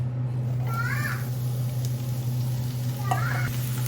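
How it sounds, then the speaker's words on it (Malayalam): Onions dropped into hot coconut oil in a frying pan give a steady, close sizzling hiss that holds through the whole stretch, with a couple of brief scraping squeaks on top. "ഞാൻ കുറച്ച് വെളിച്ചെണ്ണ ഒഴിച്ചിട്ടുണ്ട് കേട്ടോ എണ്ണ ചൂടായിട്ടുണ്ട് നമുക്ക് ഉള്ളി ഇടാം"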